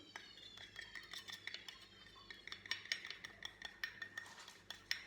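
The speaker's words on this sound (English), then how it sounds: "we're just gonna scrape it out with our spoon" Metal spoon scraping thick white glue out of a measuring cup, with a quick run of close clinks and scrapes that gets busier toward the end and no voices.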